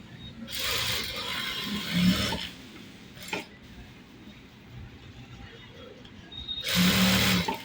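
A sewing machine stitching piping onto a blouse lining runs in short close bursts, a rasping mechanical whir that starts and stops with quieter handling in between.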